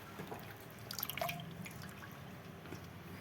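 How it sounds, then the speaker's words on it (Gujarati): Fresh fenugreek leaves being rinsed under running water for thepala, with a steady trickle and light splashing and dripping, plus a brief louder splash in the middle. "જો આ રીતે ધોઈ નાખવાની, એટલે માટી હોય અને કચરું થોડુંક નીકળી જાય"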